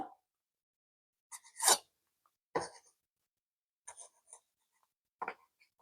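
A knife cuts a rolled tortilla kebab wrap into four equal pieces, giving a few short, faint scraping cuts separated by silence.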